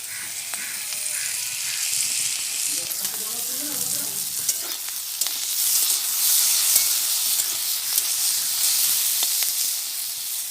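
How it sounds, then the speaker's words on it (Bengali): Fried eggs simmering in curry gravy in a pan, giving a steady close bubbling sizzle with some stirring scrapes throughout and no voices. "সে ভাজা ডিমগুলো আমি ওই ঝোলের মধ্যে দিয়ে দিয়েছি"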